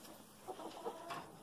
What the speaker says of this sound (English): I have a couple of broody hens